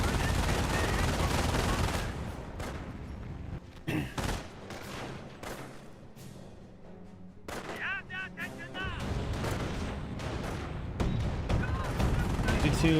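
Machine gun fire and battle noise from the strategy video game Company of Heroes, dense bursts and booms under continuous commentary from a caster, pausing briefly midway before resuming.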